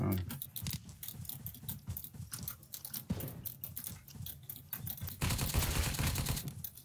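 Gunfire in the Apocalypse Rising 2 game crackling in rapid, dense bursts, mixed with fast keyboard clatter, with a final louder stretch of shooting.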